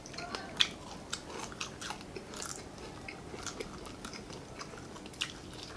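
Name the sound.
crunchy chewing of Filipino silog food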